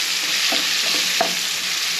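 Onions and peppers sizzle loudly on a hot grill griddle in a steady, bright hiss, with a couple of quick spatula taps, close and without speech.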